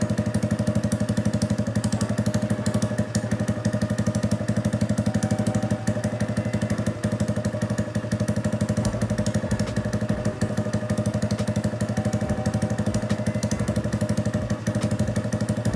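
A Honda Grom motorcycle with a newly installed TB Parts cam idles while warming up, a loud, close, steady rapid engine chug running throughout with no talking.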